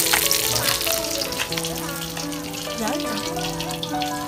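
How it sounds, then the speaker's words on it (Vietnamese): Climbing perch fish deep-frying in a pan in a home kitchen, with a continuous hissing sizzle and crackle heard close up under people talking. "Mình còn 3 con đang chiên ở nhà."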